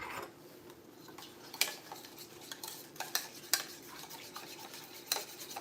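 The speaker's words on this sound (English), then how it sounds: "So now we're just gonna stir this up." A salmon nugget mixture with lemon juice being stirred in a bowl: steady soft scraping and swishing, with a few sharper clinks of the utensil against the dish, close and moderately quiet, no talking.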